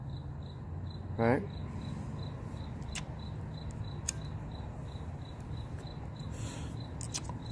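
Crickets chirp at night in mid-May, a steady pulsing trill running throughout, with a brief spoken word and a few faint clicks over it.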